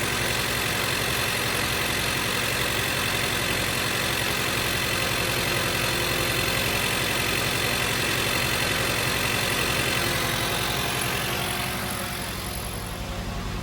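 A car engine idles after head gasket sealer has been added, running as a steady, even hum with a faint rhythmic knock that softens slightly near the end. No one speaks.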